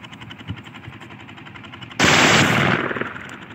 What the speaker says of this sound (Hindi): अभी जो है ना इस पे ब्रस्ट करेंगे, चलिए ब्रस्ट करते हैं इस पे